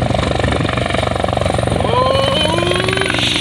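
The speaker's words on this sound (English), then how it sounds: "comes the helicopter again. It's coming down low." A fire department helicopter's loud, rapid rotor thumping fills the air up close during a water drop over Bolsa Chica Reserve, Huntington Beach, with a rising whine as it passes low overhead.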